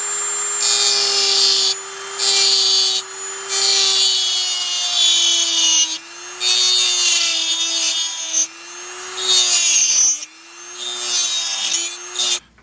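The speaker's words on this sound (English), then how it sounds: "it's kind of like a reamer that you are installing on a Dremel tool" A Dremel rotary tool fitted with a reamer bit works on parts during a Tamiya Hornet RC car transmission rebuild. Its motor whine holds a steady pitch while repeated grinding bursts rise and fall, loud and close, with no talking.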